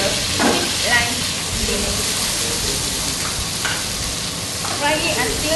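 Onion, potato and lime frying in oil in a cook-off kitchen, a continuous loud sizzle with occasional stirring scrapes and a busy, noisy room behind it.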